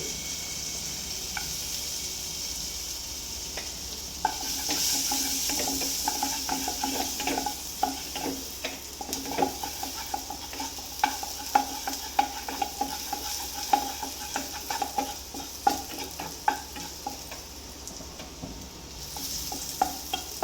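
Garlic sizzles and fries in melted butter in a pan, a steady crackle with soft stirring scrapes and light clinks of a utensil, close and continuous throughout.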